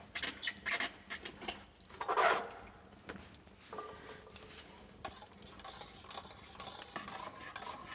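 Thick homemade custard (natillas) bubbling in a pot on the stove while a spoon scrapes and stirs it, with soft sizzling and intermittent clinks of utensil against the pot, close and fairly quiet with no talking.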